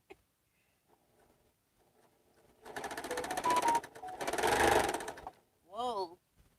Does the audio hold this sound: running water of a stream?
no